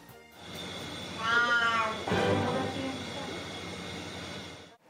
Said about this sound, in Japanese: ヤギオくんの鳴き声をお聞きください